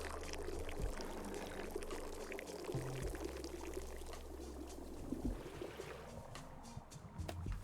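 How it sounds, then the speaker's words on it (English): Tea poured out in the video game Wanderstop, a steady liquid trickle running through most of the stretch over low background game ambience, with no talking. "pour this out, and then give some to Monster."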